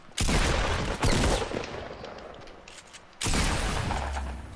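Rapid bursts of gunfire from a Fortnite tournament match, loud and close, in dense volleys that break off briefly before a fresh burst resumes.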